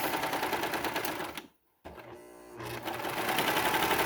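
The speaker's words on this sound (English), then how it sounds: "I just want to serge it right on the edge." A serger overlocks the raw edge of pajama-shorts fabric, a fast dense whirring close by that stops briefly, then restarts and runs steadily again.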